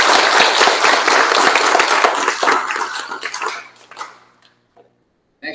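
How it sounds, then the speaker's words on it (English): Students at an awards ceremony give a round of applause, a loud burst of many hands clapping that thins into a few scattered claps and fades to silence. "let's go ahead and give ourselves and our classmates a round of applause"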